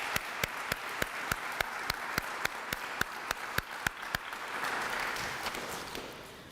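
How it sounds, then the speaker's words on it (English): Audience applause at an academic awards ceremony, a steady wash of many hands with a sharp, evenly spaced rhythm of louder claps standing out on top, holding throughout and swelling slightly near the end. "Let's give Dr. Ferris a round of applause."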